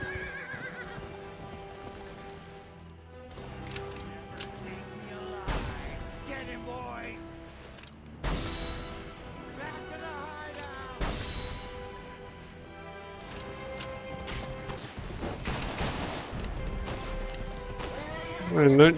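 In the video game Gun, a horse whinnies loudly several times over a rhythmic clip-clop of hooves, with crashes and voices sounding through the scene.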